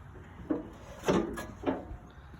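RV entry steps being raised and folded up inside, heard as three separate quiet wooden knocks and clunks spaced about half a second apart in a calm interior.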